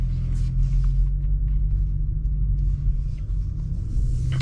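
An Audi S4 with a ZF automatic gearbox pulling away, a steady low engine rumble heard from inside the cabin, smooth and even with little change in pitch.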